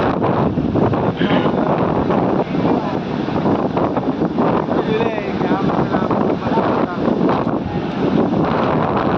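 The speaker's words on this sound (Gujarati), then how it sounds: "બહુ મોટી લહેરો આવે છે મિત્રો તાપી નદીમાં." The flooded Tapi river surges with big waves over a submerged causeway bridge, a loud, constant roar of rushing water buffeted by heavy wind noise on the microphone.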